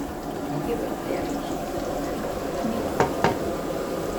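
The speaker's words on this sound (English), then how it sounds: "We want to put hot water." Hot water pours and splashes into a pot with a steady bubbling rush, punctuated by two sharp metallic clinks near the end.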